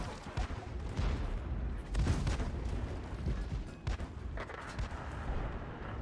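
Tank cannon fire in World of Tanks gameplay, heard as a dense, rumbling stretch of booming shots and battle noise at a low, steady level without clear breaks.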